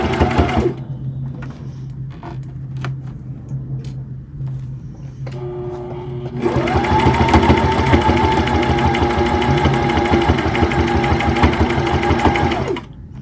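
A sewing machine stitches a pot holder, starting with a few short bursts and then running in one steady, loud, continuous whir for about six seconds before stopping.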